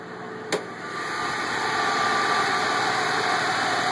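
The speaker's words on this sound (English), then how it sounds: "I'm going to start the engine now." A 1993 Nissan 300ZX with a Japanese engine and electric fans settles into a steady idle after a brief click, a constant close hum that builds slightly and then holds even.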